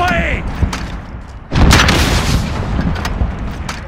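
A rocket launches and explodes in a battle royale shooter: a sharp blast followed by a sustained rumbling roar, loud and close, with scattered gunfire and voices around it.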